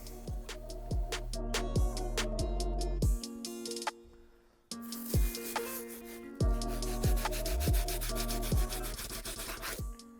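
Stiff bristle brush scrubbing the soles of dusty Air Jordan 1 Shattered Backboard sneakers, giving close, loud rhythmic rubbing strokes with a brief pause partway through and no talk.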